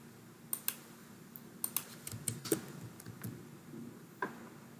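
Scattered clicks of computer keyboard keys pressed during coding, including a Ctrl+I shortcut, crisp and close in a quiet room, irregular taps with brief pauses between them.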